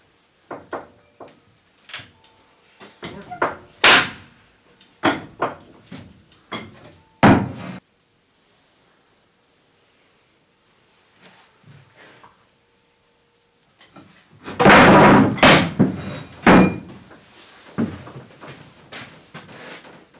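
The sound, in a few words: 3-ton floor jack and board pressing up bent trailer roof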